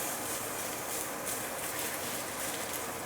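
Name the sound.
kitchen exhaust fan running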